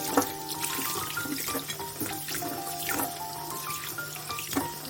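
Running water splashes into a sink while young radish greens and cabbage are rinsed, with gentle sloshing and dripping, steady and close by.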